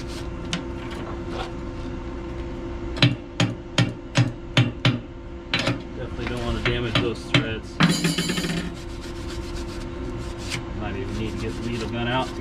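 A hammer chips slag off fresh pipe welds on an Alaskan fishing boat: a run of about eight sharp metallic taps in steady rhythm, then scraping and rasping, close up over a low background hum.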